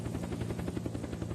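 Helicopter in the video game Unturned, its rotor chopping in a fast, steady pulse with a low engine drone underneath, loud and close throughout, no voices.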